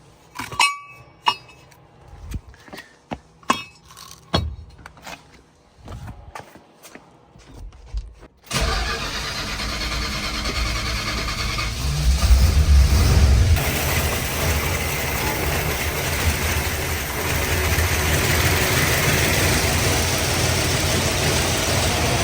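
An old, dirty Mopar car sits quiet at first with a few metallic clinks, then its engine fires up and settles into a loud, steady idle, with a brief rise in revs partway through.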